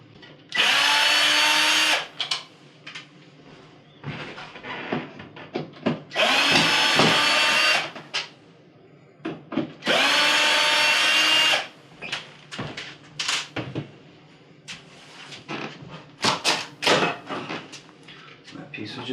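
A power drill backs screws out of a GE oven during a repair, whirring in three long, loud bursts separated by clattering handling sounds and talk.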